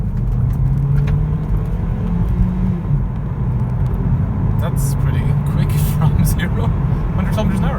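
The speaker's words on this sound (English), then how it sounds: "let's floor the car and see what happens" A 2021 Hyundai Kona Hybrid DCT engine drones and rumbles steadily as it accelerates at full throttle, with a low powerful hum and faint road noise.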